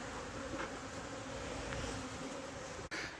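A honeybee swarm buzzes in a dense, continuous hum that is close and fairly loud, with a short dropout just before the end and no talking.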